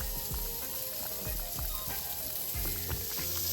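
A pot of grits simmers on the stove, giving off a steady low bubbling and sizzling with soft pops and thumps, close by and without talking.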